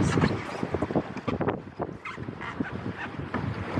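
Gusting wind buffets the microphone aboard a sailboat at sunset near Shelter Cove, Hebe Haven, with uneven loud rushes over water noise and no clear speech.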